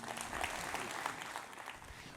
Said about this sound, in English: can I get a round of applause for Tim and Dan?